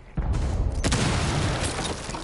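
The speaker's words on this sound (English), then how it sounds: "Flashbang." A flashbang grenade bursts in a tactical shooter game: a sudden loud boom that hits hard and then rings on as a long bright, noisy wash.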